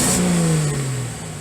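A Datsun 280ZX engine is blipped on the throttle nearby, with a loud rev that peaks briefly and then winds down toward idle.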